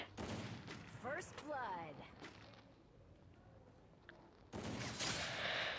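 Bursts of gunfire from the video game Free Fire, a loud rapid fusillade at the start and again at the end with a quieter gap between, mixed with game sounds and voices talking.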